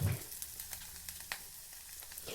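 Urad dal fries in hot oil while it is roasted for a curry. A steady close sizzle runs throughout with a few soft crackles and clicks, and no talk.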